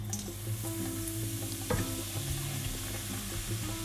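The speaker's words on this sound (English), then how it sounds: "now I'm going to add the semolina in here." Semolina stirred and fried in hot oil for sooji halwa, a soft, close sizzle with scraping stirs and one sharper utensil knock midway.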